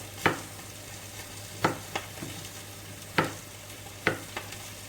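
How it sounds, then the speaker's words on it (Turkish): Lamb rack chops sear in a cast iron pan, giving a steady low sizzle with several sharp clatters of a utensil against the pan at irregular intervals, near and moderately quiet, with no talking. "Sesler geliyordur. Cızır cızır cızır cızır."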